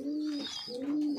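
A pigeon cooing close by in a farm loft, two soft, drawn-out coos in quick succession, clear and alone without any talk.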